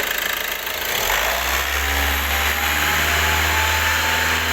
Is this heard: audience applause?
no